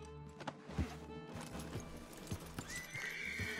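A horse in the video game Red Dead Redemption 2 whinnies and snorts while hooves clop in an uneven rhythm close by, with game music and ambience underneath.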